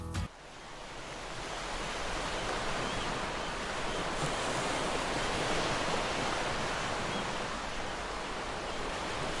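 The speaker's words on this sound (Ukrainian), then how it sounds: "не вистачає моря, сонця та чаєк" Sea waves used as a sound effect: a loud, steady wash of surf that rises quickly after a brief start and rolls on continuously, broad and hissing, with no voices.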